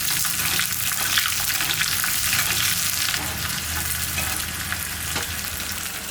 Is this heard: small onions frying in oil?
yes